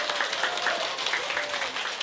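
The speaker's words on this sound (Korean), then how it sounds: "박수 한번 치세요" An audience bursts into applause at a Korean shopping-membership seminar, a dense, steady wash of clapping lasting a couple of seconds.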